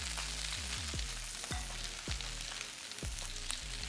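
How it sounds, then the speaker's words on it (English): Salmon bites frying in a pan, a dense, steady sizzle with a low underlying hum and quick repeated downward sweeping tones, close and continuous with no talking. "Cooking my salmon to about a medium"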